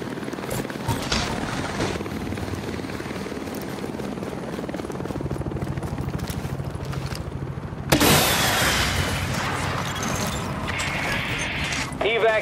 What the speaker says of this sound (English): Evac helicopter incoming.